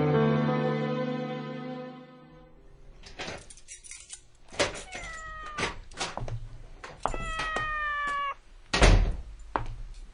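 A house cat meows several times in a quiet domestic scene, drawn-out cries mixed with knocks and thumps of doors or objects, close and clear after a fading musical tone.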